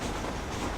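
A train rumbles inside a tunnel in the Red Dead Redemption video game, a dense, loud broadband roar filling the brief moment with no speech.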